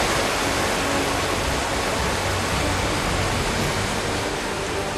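Rushing water from a powerful waterfall roars as a steady, dense, unbroken wash of noise, loud and close, with no voices.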